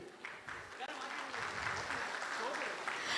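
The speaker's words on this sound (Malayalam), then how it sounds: "ഇതാണോ നമ്മുടെ പ്രിയപ്പെട്ട കുഞ്ഞുങ്ങൾക്കുള്ള കയ്യടി?" A packed audience claps continuously at an OICC Riyadh Thiruvananthapuram district committee event during Shashi Tharoor's Riyadh visit, with a dense, sustained patter of applause mixed with crowd voices.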